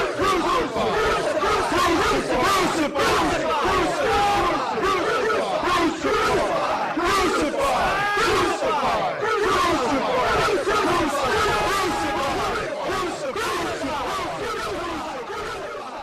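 A large, dense crowd shouts in unison, a loud and sustained chant of 'crucify' with many overlapping voices, rhythmic surges running through the whole stretch and easing slightly at the end.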